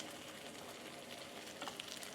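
Soft, steady sizzling of bánh xèo batter frying in oil, a continuous crackling hiss with faint pops, close and quiet.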